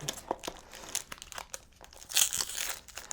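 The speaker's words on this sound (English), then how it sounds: "let's get to opening packs" Magic: The Gathering Dominaria booster packs being torn open, with a steady run of close crinkling and crackling foil wrapper sounds, alone and without talk.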